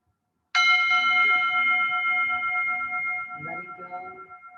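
A single meditation bell struck once during a tai chi and meditation session, a clear bright onset that rings on with sustained tones slowly fading, close and alone without talk.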